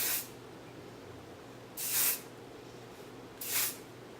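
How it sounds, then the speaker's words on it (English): Three short hissing bursts of an aerosol spray, spaced apart, close to the microphone in an otherwise quiet room. "hold it up, and spray it."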